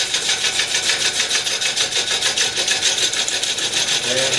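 Wood turned on a lathe for a platter, a Rick Taylor gouge cutting across the face: a continuous, rhythmically pulsing rasping hiss, loud and close, steady throughout with no speech.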